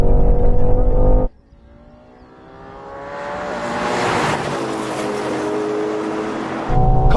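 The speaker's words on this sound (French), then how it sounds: "Regardez la Ferrari y aller" A Ferrari Purosangue accelerates hard in a drag race, its engine note climbing steadily from a low rumble to a loud, sustained roar after a brief quiet gap, with other engines loud at the start and end.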